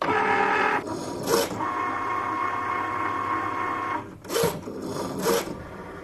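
A craft cutting machine fitted with a scoring wheel scores card for homemade Christmas crackers, giving a steady mechanical whirring hum broken by a few brief louder bursts as the carriage shifts, with no voices.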